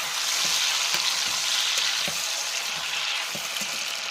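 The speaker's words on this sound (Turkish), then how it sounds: "Şimdi kuru kayısılarımı yağın içerisine boşaltıyorum." Dried apricots frying in melted butter in a pan on the stovetop, a steady close sizzle with occasional soft stirring clicks throughout, no talking.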